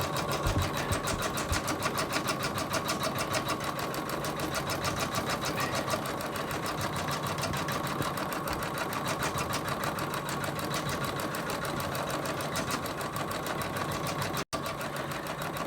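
An embroidery sewing machine running at about 400 stitches per minute stitches out a Christmas angel, a steady, close, rapid mechanical chatter that continues without a break for the whole stretch.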